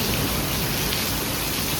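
Rain pouring down in a dense, constant hiss with no break, loud and close all the way through.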